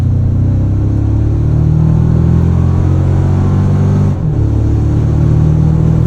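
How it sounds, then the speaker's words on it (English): A 2024 Toyota Tacoma Trailhunter hybrid pulls away under acceleration, its engine droning loud and close through the 8-speed automatic, with the pitch dropping sharply at a quick gear change before the drone settles again. "Nice, quick, crisp shifts there from the 8-speed auto."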